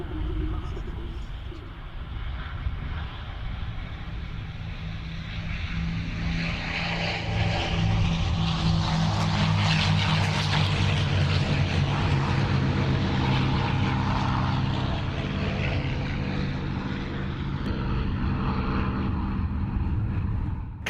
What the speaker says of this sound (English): we watch the P-51 Mustang, the Cadillac of the skies